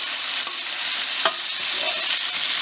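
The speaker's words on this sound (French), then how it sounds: "je mets les oignons. Voilà, et je vais laisser suer tout ça." Onions sweating in a casserole pot, a dense loud sizzle with brief stirring clicks running steadily throughout.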